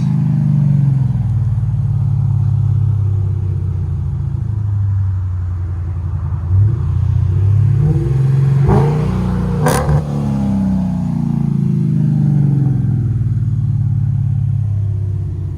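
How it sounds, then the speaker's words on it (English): A supercharged Chrysler 300 with a Demon engine, headers and Flowmaster Outlaw exhaust rumbles steadily, then revs sharply with a crackling exhaust burst before settling back to a deep idle. "Chrysler 300 with a Demon supercharger. All that exhaust addicts."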